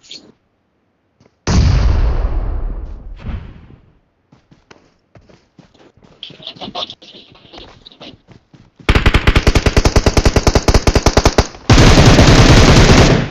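Automatic weapon fire in the mobile battle-royale game PUBG Mobile: scattered shots and footsteps give way to long, loud rapid bursts of machine-gun fire near the end, with no talk.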